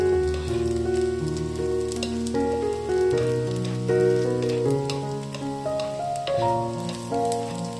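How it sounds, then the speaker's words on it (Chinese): Winter melon slices fry in a pan, a gentle sizzle running beneath prominent background music for the whole stretch. "把冬瓜的两面都煎熟煎透"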